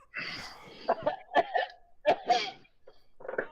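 A person imitates a cat hacking up a hairball during a live Dungeons & Dragons game, with a string of raspy, gagging coughs and throaty retches, fairly close and moderately loud.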